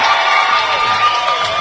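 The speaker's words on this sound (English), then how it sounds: "it's quite like a deafeningly loud amount of noise from the crowd here" A loud crowd at a British bouldering championship final cheers and shouts continuously, a dense roar of voices that fills the space at a steady, deafening level.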